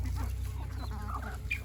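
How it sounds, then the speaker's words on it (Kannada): Native Natikoli country chickens, a rooster and hens foraging together in a flock, give soft clucking calls close by over a steady low background hum. "ಈ ಗುಂಪಲ್ಲಿ ಈ ಹುಂಜ ಮೇಯ್ತಿದೆ, ಈ ಗುಂಪಿಗೆಲ್ಲ ಮೇಯ್ಸೈತೆ"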